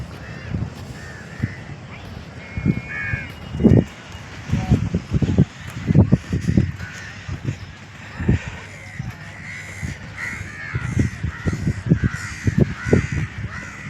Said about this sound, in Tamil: காக்கைகள் கரைகின்ற ஓசை.